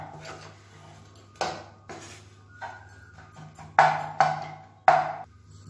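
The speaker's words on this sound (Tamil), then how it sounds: "இந்த முட்டை வந்து நல்லா சின்ன சின்னதாக கொத்தி விட்ருங்க" A spatula chops cooked egg in a pan with sharp metallic clanks, a few scattered at first and then three louder strikes close together near the end, over a faint steady hum.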